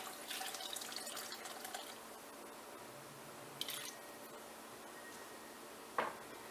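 Extra water, a couple of cups, poured into a pot of bean soup with vegetables in a home kitchen, a steady faint splashing stream for the first couple of seconds, then quieter, with two brief sharp clinks.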